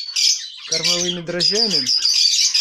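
Budgerigars in an aviary squawk and chirp in bright, busy bursts, close and loud, while a person briefly speaks over the middle of the calls.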